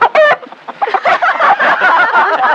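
Chicken clucking, loud and close, a sharp squawk at the start followed by a run of rapid, busy clucks that carries on to the end with no speech.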